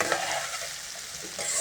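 Ivy gourd fry with grated coconut is stirred in a pan, a spatula scraping and tossing the pieces over a soft, steady sizzle in short, close strokes.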